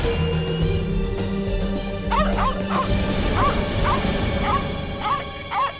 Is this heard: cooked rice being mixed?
no